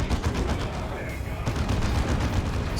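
Blaster fire rattles through a Space Marines versus Orks battle in the strategy game Warhammer 40,000: Dawn of War 2. It comes as dense, continuous rapid shots layered with battle noise, with a commentator talking over it.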